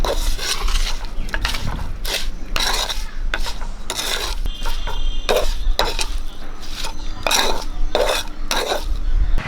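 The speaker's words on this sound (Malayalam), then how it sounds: "ഇനി നമുക്ക് നല്ലപോലെ ഇളക്കി" A spoon scrapes and rasps around a pan of snake gourd and dried shrimp in steady, repeated strokes, close and fairly loud, with no talking.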